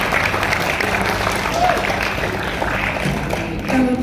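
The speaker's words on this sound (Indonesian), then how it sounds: "Boleh tepuk tangan buat kita semua." Audience applause at a school graduation farewell gala, steady dense clapping from a crowd carrying on at an even level, with chatter and a few voices mixed in.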